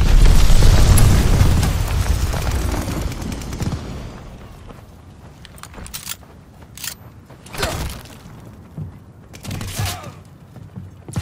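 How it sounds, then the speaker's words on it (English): An enemy glide bomb explodes in Call of Duty: Vanguard multiplayer on the Shipment map. A heavy, booming blast rumbles loud at first and slowly decays, followed by scattered sharper bangs and gunfire. "Got an enemy glide bomb on the way."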